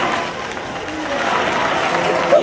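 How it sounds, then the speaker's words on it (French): An audience applauds steadily, giving a continuous wash of claps with crowd noise running through it. "On l'applaudit."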